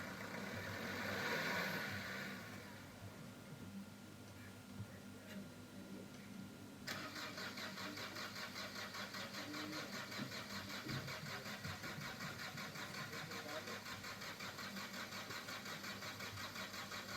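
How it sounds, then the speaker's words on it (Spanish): Vehicle engine being started with ether after a fuel check valve was fitted: an initial cranking surge, then a steady, fairly quiet idle with faint ticking that continues to the end. "hay que hacer la prueba arrancando el vehículo para ver que funciona"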